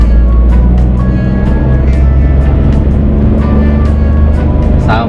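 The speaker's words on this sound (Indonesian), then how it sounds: "Kita naikkan gigi 3." A manual car engine shifted into third gear and accelerating, a loud, close, steady drone that rises slightly in pitch over a few seconds, with a faint voice near the end.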